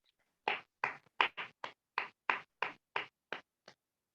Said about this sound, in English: let's give a good round of applause to distinguished Toastmaster Lalit as well as Toastmaster Varsha